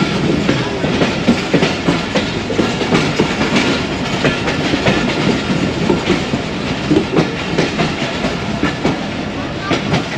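The Allama Iqbal Express passenger train runs steadily on rails with a loud, continuous clickety-clack of wheels over joints and a dense rumble of carriages, recorded up close from on board.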